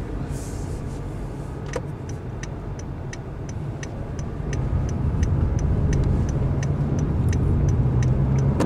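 A Honda Fit Hybrid S with Honda Sensing drives on a test drive, its cabin hum and road noise steady and growing louder halfway through, with a regular clicking tick, like a turn signal, running through the second half.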